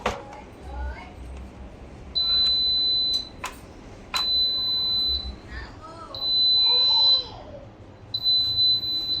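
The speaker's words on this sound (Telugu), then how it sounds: "చూసారా, సాటే మోడ్ కంప్లీట్ బీప్ వచ్చింది." An electric pressure cooker signals the end of its saute mode with a series of clear, steady electronic beeps, four long tones spaced about two seconds apart, with kitchen clatter between them.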